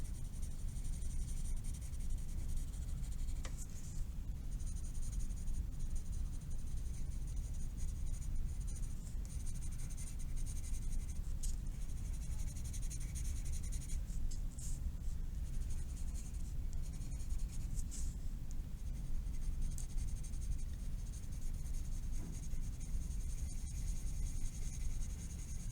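Close, continuous scratchy strokes of an ebony pencil shading a drawing of the top of an ice cream cone on paper, with a steady back-and-forth rhythm and occasional sharper scrapes.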